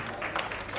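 Applause from the audience at an award ceremony stage show after a singer's performance, a brief steady burst of clapping from a crowd.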